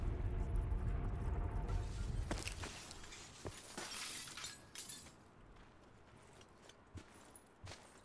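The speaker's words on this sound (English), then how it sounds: "Why is glass breaking?" Glass shatters in the Call of Duty Black Ops 4 Blackout battle royale game, with a loud break followed by scattered tinkling shards and sparse clattering impacts as the sound thins out.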